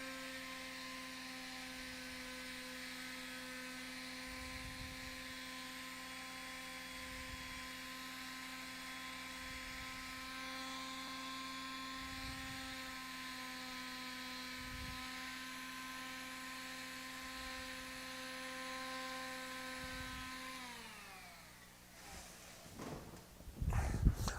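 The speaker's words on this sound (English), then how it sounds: "You could take a palm sander like this. It's going to be noisy for a second." A palm sander runs continuously on a wooden letter opener, a steady electric motor whine with a faint rhythmic pulse, then winds down at the end into some clattering handling noise.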